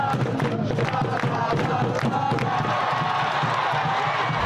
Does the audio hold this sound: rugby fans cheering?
yes